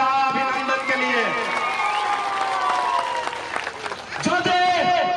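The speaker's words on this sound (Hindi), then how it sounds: "जोर से एक बार ताली बजा दो अभिनंदन के लिए" A crowd at a political rally in Bihar claps in welcome for a guest, a steady wash of applause and cheering running under a loud amplified voice addressing them.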